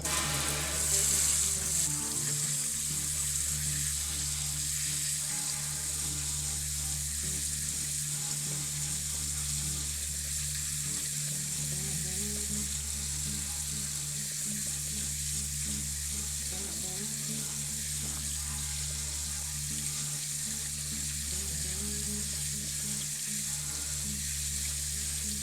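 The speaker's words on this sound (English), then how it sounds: "Crank up your faucet and start rinsing." A kitchen faucet runs in a steady, hissing stream as tomato seeds are rinsed in a strainer, holding constant for about twenty-five seconds under a faint, regular low hum.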